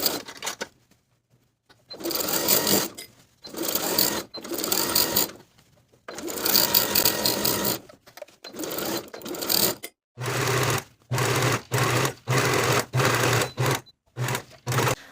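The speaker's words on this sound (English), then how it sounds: "we're going to sew the waistband to the top of the pant, stretching that back elastic to sew the back waistband" Sewing machine stitching a waistband onto the top of pull-on pants while stretching the back elastic, running in loud bursts of rapid needle clatter separated by short pauses, close up, with no talk over it.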